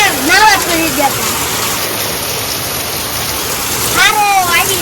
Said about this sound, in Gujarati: વરસાદ બહુ સારો પડી ગયો હે.